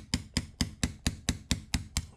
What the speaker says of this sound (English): So just kind of hammer it out. It'll take a couple whacks.